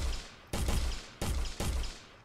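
Three loud gunshots from an aimed gun in an Unreal Engine shooter game, each a sharp close blast with a booming decaying tail, fired at uneven intervals.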